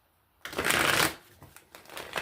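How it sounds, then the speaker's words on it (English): A Mermaid Tarot deck is shuffled close up, one quick riffling burst followed by softer taps and slides of the cards, with no voice. "We'll shuffle the cards a couple times."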